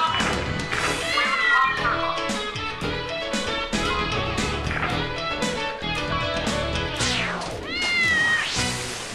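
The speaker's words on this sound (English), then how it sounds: "I hear a cat." A cat meows repeatedly in the Lethal Company video game, with loud rising and falling calls coming close together while children's voices chatter and play underneath.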